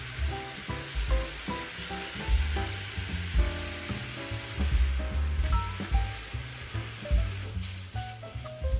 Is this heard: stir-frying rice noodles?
yes